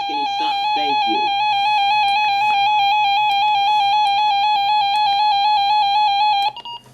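A steady, piercing electronic siren test tone from a RadioShack 12-261 weather radio holds for several seconds, loud and unbroken, with a brief voice-like sound at the start before it cuts off.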